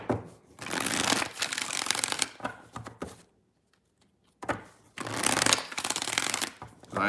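Two bursts of tarot cards being riffle-shuffled, crisp and close, separated by a short quiet pause.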